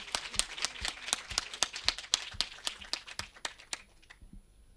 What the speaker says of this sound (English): I want a big round of applause for all our indigenous communities